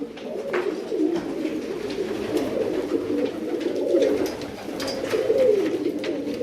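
Pigeons kept as tumbler birds coo steadily in a low, rolling murmur, several overlapping calls close by and fairly loud, with no talking.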